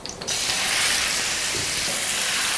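A steak sizzles in generous vegetable oil in a hot pan, a bright dense crackling hiss that starts abruptly after a brief quiet moment and then stays loud and continuous, with no voices.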